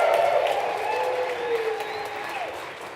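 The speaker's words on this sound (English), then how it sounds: "let's give a big round of applause for Alex." Audience applause with some cheering at a livestreamed climbing film event, a steady clapping wash over about three seconds with faint tonal whistles or voices mixed in.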